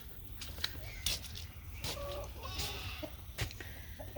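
Chickens on a farm cluck and call in scattered short bursts at moderate distance over a low outdoor hum, with a few sharper chirps and bumps mixed in.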